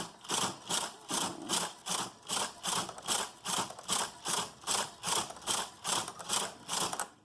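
Knitting machine carriage swept back and forth across rows, a loud rhythmic series of rasping, clattering passes, about two per second, close by and without talk.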